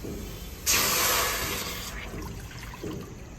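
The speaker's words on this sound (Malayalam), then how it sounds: "നമുക്ക് ആവശ്യത്തിന് വെള്ളം ഒഴിച്ചു കൊടുക്കാം" Water is poured into a cooking pot on the stove for boiling pasta, a short splashing gush up close that fades into a lighter trickle, followed by a small knock.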